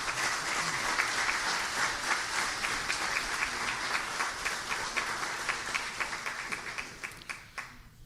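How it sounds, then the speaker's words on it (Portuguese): A presentation audience gives a long round of applause after a call to clap, dense and steady, thinning into a few scattered claps near the end. "eu até pedi uma grande salva de palmas para ele"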